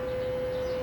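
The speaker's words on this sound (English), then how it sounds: "The siren you hear in the background is 8 a.m. time." A civil defense siren sounding at 8 a.m. in Carcar, Cebu, Philippines, during a quarantine curfew holds a steady, unwavering tone at one pitch throughout, loud and sustained with faint background noise beneath it.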